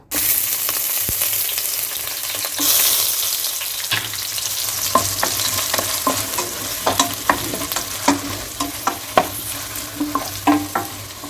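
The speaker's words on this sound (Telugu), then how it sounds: "ఇప్పుడు ఆనియన్స్ వేసుకొని ఫ్రై చేసుకోవాలి" Onions frying in a pan with mustard seeds and curry leaves for a capsicum tomato curry, a steady close sizzle with a rising run of sharp spatula scrapes and taps toward the end.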